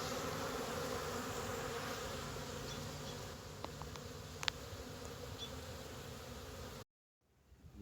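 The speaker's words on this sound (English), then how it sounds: "we're just stealing a frame of bees for him right now" Honey bees hum in a dense, continuous buzz around an open hive during a spring hive check, close and steady, with a few faint clicks before a sudden cutoff.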